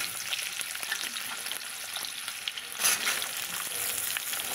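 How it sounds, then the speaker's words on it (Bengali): Nigella seeds tempering in hot white oil for a cauliflower-stalk dish, giving a close, steady, fairly quiet sizzle with a slightly louder spurt partway through. "এখানে আমি সাদা তেল দিয়ে দিলাম, আর কালো জিরে ফোড়ন দিলাম"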